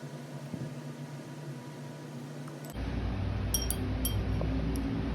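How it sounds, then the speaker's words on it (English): A glass bottle of shimmer fountain pen ink is shaken and swirled, giving bright glassy clinks and tinkles over a steady low hum that rises partway through. "So make sure to keep on mixing the bottle."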